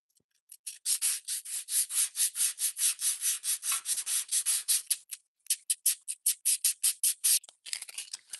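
Body filler over a scratch near a car's licence plate is spot sanded by hand in fast, even back-and-forth strokes, about two per second, a close, crisp rasping that pauses briefly once midway.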